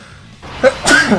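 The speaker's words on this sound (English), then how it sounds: "Of course I would sneeze right as I start the video." A single human sneeze heard close to the microphone during a mobile game showcase, a short inhale rising into a sharp loud burst with nothing else around it.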